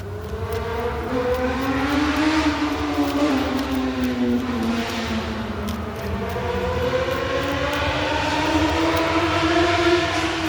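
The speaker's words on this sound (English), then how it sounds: "That's just motorcycles." Motorcycles passing on a nearby road, a steady engine drone with rising and falling tones as the bikes go by, continuous and moderately loud.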